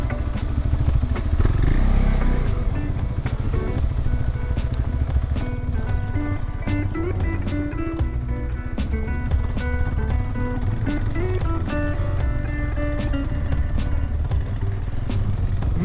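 A motorcycle rides off-road on a rough trail in rural Mexico, its engine droning steadily and close throughout with a constant rough rumble, alone and without talk.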